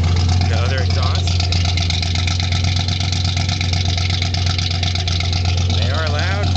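A 1976 Ford F-100 Ranger truck idles loudly and steadily with a deep rumbling exhaust drone, close by, continuous throughout with no breaks.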